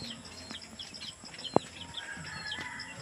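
Chickens and roosters cluck and chirp softly inside a coop, faint and scattered, with one sharp click partway through.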